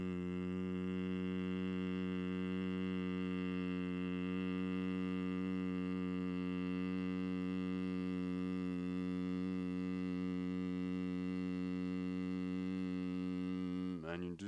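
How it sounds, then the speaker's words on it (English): A steady, closed-mouth humming in bhramari black bee breath, one long, even, buzzing tone sustained through a full exhale, close and moderately quiet. "you're going to do this humming sound, just like in India they call it, it's the sound of the black bee"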